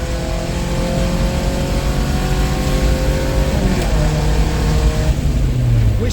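A naturally aspirated Toyota Celica ST204 or Crown Vic P71 accelerates hard in a drag race, its engine loud and close, revving up through a gear, dipping at a shift, then climbing again.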